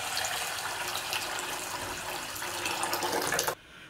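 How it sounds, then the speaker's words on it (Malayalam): Water pours steadily into washed basmati rice to soak it, a continuous close splashing flow that stops abruptly near the end. "ഇനി ഇതിലേക്ക് നമുക്ക് ആവശ്യത്തിന് വെള്ളം ഒഴിച്ചിട്ട് കുതിർത്തി എടുക്കാം"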